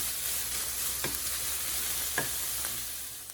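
Sausage frying in a pan gives a steady, soft sizzle, with a few faint scrapes of stirring, close by and alone.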